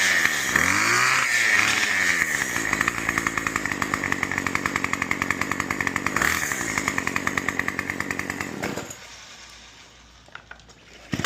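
A gas string trimmer engine runs steadily after being pull-started with choke and primer, a loud buzzing two-stroke drone with harmonic sweeps as it revs, then cuts off near the end and falls quiet.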